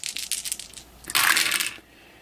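Dice rolled for a B-17 Flying Fortress Leader board game clatter in two short bursts, a lighter rattle followed by a louder, denser tumble that stops abruptly, close and with no talking.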